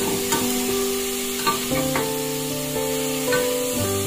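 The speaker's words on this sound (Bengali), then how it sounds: "আমরা 2 মিনিট গাজরটাকে একটু ভেজে নেব" Grated carrot frying in melted ghee for carrot halwa, a close, steady sizzle broken by stirring scrapes, with a few tonal kitchen sounds and no voices.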